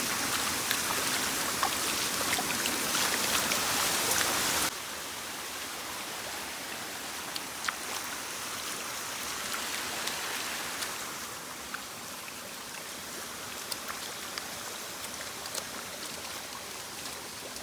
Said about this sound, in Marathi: पाण्यातनं चाललोय.